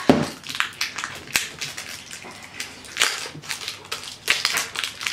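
A LOL Surprise toy package being opened by hand, with a dense run of crinkly plastic rustling, tearing and snapping clicks, close and fairly loud, no talk.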